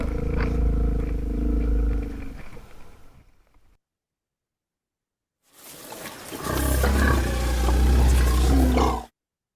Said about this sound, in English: we'll listen to some comparative elephant sounds that were provided from Kelly Bakos, who recorded these on a trip to Africa